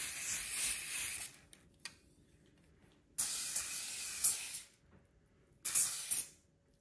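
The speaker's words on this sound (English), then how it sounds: "So let's go ahead and we are gonna spray it." Three bursts of Apple Garde protector spray hiss close up onto Louis Vuitton vachetta leather, each lasting about a second or more, separated by quiet pauses.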